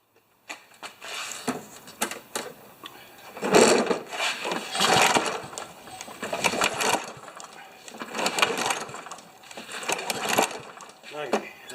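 A Kohler push lawn mower engine sputters and revs in uneven bursts, surging loudly and dropping back several times as it struggles to run with the choke wide open.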